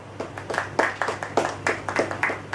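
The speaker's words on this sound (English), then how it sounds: "can we have a round of applause?" Students give a round of applause, a brief, fairly faint patter of claps from a small group, steady and uneven in rhythm, with no voices.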